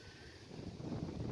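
Wind blows across a hilltop near Tangier, a low, faint, rumbling buffet against the microphone with a soft rustle and no voices.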